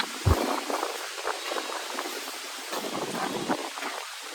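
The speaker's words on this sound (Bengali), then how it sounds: "জোর হাওয়া দিচ্ছে, জোর" Strong wind gusting outdoors during heavy rain, a continuous broadband rush with a sharp buffet near the start and uneven swells throughout, loud and close against the microphone, with no talking.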